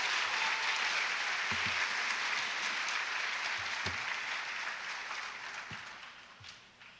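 An audience at an 8th grade graduation applauds for the students, steady dense clapping with a few sharp claps standing out, slowly fading toward the end.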